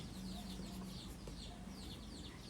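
A chicken on a farm clucks in short repeated bursts, close and clear, over a busy background of other fowl.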